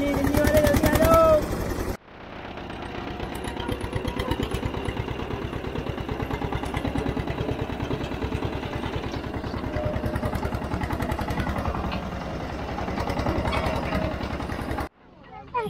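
A tractor engine chugs steadily at close range with a dense, rattling diesel pulse throughout a tractor ride at a day-outing spot near Delhi NCR, starting abruptly after a brief burst of other noise and cutting off near the end.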